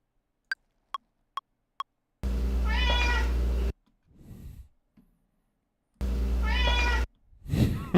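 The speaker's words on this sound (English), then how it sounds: "Hungry kitty." Four quick clicks lead into two long, loud cat meows separated by a breathy pause, with faint rustling between them.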